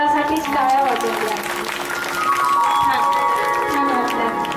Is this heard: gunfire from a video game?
no